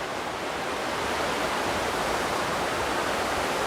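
Steady, loud rush of a waterfall on a rainforest walk, continuous broadband water noise close by with no voices.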